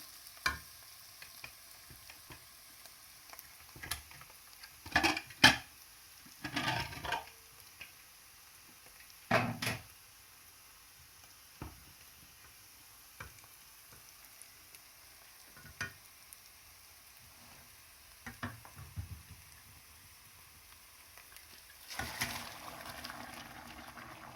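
Broiler duck curry cooks in a pan, with quiet sizzling and intermittent scraping stirs of a spoon against the pan in short bursts separated by near-silent pauses.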